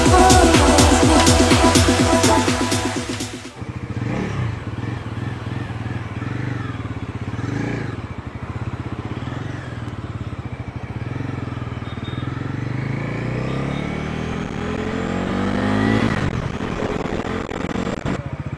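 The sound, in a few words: Bajaj Pulsar NS400 motorcycle riding after test drive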